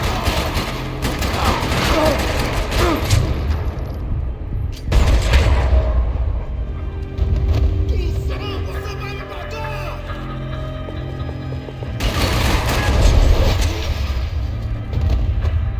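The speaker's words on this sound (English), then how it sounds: "The echoes of the gunshots sound different in here, much louder and more chaotic." Gunfire echoing through a concrete parking lot in Max Payne 3, with bursts of shots, booming reverberant reports and thuds in loud chaotic clusters, separated by brief quieter stretches.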